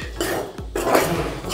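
Chana dal and garlic roasting in oil in a pan, a steady close sizzle with scraping spoon or pan knocks at regular intervals and no talk.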